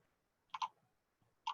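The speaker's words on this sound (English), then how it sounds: "You just click tab on your keyboard." The tab key on a computer keyboard is tapped in quick light clicks: a close double click, then a single one about a second later, each faint and crisp in an otherwise quiet room.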